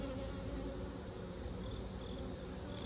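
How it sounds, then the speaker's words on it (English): Honeybees buzz continuously around large hives during fall beekeeping, a dense, steady outdoor drone with no pauses and no voices. "The only thing about the fall beekeeping, I feel like the hives are really big and they get kind of pissy this time of year."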